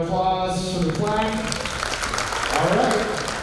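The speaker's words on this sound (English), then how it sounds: "One more round of applause for the plaque." An event audience applauds a plaque presentation, a burst of clapping mixed with voices and talk over a public address system, fairly loud and continuous for a few seconds.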